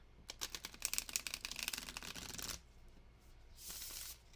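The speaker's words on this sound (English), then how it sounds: "let's give this a good shuffle" A deck of tarot cards shuffled by hand, a rapid run of crisp riffling flicks close up, then a brief pause and a short second riffle.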